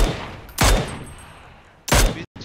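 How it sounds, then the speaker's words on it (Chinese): Video game gunfire from a battle royale match: two sharp, loud shots or short bursts about a second and a half apart, over a quiet background hiss. "开枪了，刚刚"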